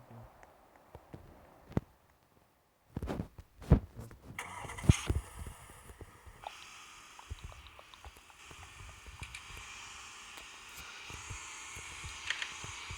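A car in the video game Tycoon 2 modern farm starts up after a few quiet seconds with sharp clicks and cranking bursts, then settles into a steady, slow-driving engine hum with scattered knocks over the rest.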